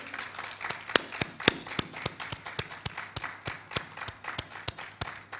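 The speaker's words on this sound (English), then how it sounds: "Let's give them a round of applause for their hard work" Scattered applause in a room for trained faculty master trainers, with a few hands clapping in a distinct, fairly regular rhythm at moderate volume.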